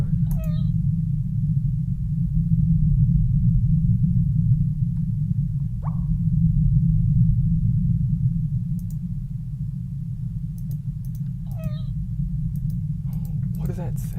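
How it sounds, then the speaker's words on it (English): A computer or console fan during a horror game session gives a steady low hum that runs throughout, with faint clicks and brief game sounds over it. "It's the fan."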